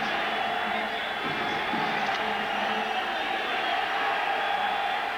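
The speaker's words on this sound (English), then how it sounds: "And the crowd wakes up." A large crowd roars in a football stadium during an Eagles at Cardinals game, a loud, steady wash of cheering that holds with no breaks.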